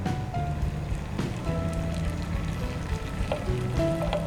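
Margarine and water come to a boil in a pan for choux pastry, bubbling and sizzling steadily around the edges with small pops and faint clinks, fairly close and continuous.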